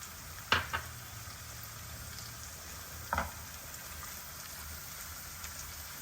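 Cabbage and capsicum frying in oil in a pan for egg fried rice, giving a steady, soft sizzle throughout, with two sharp scraping clatters from a spatula near the start and again midway.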